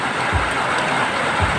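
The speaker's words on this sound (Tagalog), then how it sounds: "Tsaka ang lakas po ng ulan ngayon" Heavy rain pouring down on a house during a sudden downpour, a loud, dense, continuous hiss of water, with a few low thuds and no voices.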